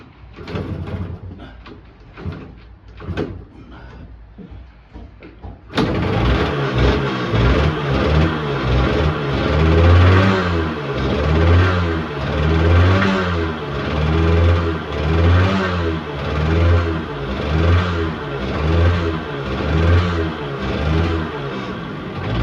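After a few faint knocks, a Yamaha RD80 two-stroke classic motorcycle engine bursts to life and runs loud and steady, rising and falling in repeated revs, with no talking.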